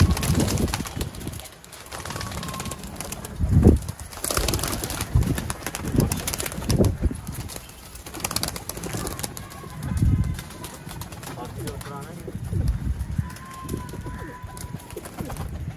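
Pigeons coo softly in low, rolling bursts, repeated several times nearby, with faint chirps and rustling in the background.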